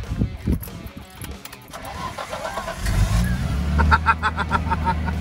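An old classic car's engine cranks with a few sharp clicks and turns over, then catches and settles into a loud, close, rumbling idle.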